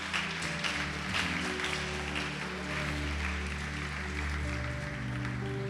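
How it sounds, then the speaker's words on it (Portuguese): A church congregation applauds in a continuous, dense patter, while sustained keyboard or organ chords hold steady underneath. "Pode aplaudir e glorificar Jesus."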